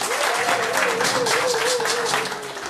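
A crowd at a RHDP political rally in Bouaké applauds for Houphouët-Boigny, a dense wash of clapping with a steady voice or chant rising and falling over it throughout.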